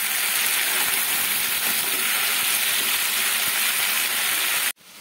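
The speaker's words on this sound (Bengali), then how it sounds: "এবারে ছাতুগুলোকে আমি দিয়ে দিচ্ছি তেলের মধ্যে।" Mushrooms frying in oil over a high flame give a loud, continuous close-up sizzle that cuts off abruptly near the end.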